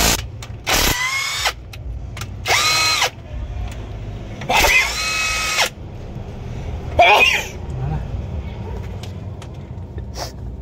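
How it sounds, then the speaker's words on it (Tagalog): Freshly charged cordless impact wrench firing in several short loud bursts of hammering rattle, separated by pauses with background noise and quiet talk. "Malakas talaga yung impact na yun, no?"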